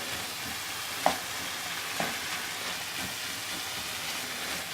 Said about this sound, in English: a nice combination of chopped garlic, coarsely chopped onion, and the mince, which is largely cooked. And I'm just going to mix all that in together.